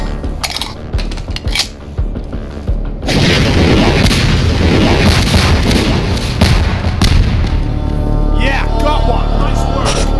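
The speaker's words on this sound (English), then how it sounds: "Hey! Throw me missiles! Don't waste time! Throw missiles!" Missiles are thrown and explode in the video game Swelter, producing loud, dense booms and crashes that build into a sustained barrage, with voices talking over the action.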